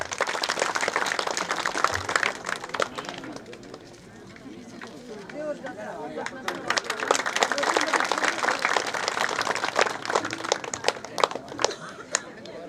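Applause from an audience at a Kaman festival celebration in Nallipalayam, Namakkal district, steady clapping of a crowd sustained for several seconds with birds cooing faintly and a voice speaking briefly.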